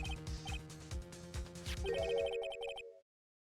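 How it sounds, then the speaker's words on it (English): A chiptune Steel Samurai ringtone plays from a phone in the Phoenix Wright: Ace Attorney video game, a bouncy melody over a steady pulsing beat that ends abruptly, with no talk over it. "I heard a phone ring just now, one of these newfangled ringtones."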